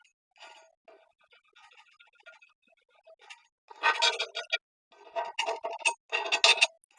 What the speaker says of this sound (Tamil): இந்த மாதிரி கரண்டி வச்சு லைட்டாக எடுத்து விட்டீங்கன்னா போயிடும்.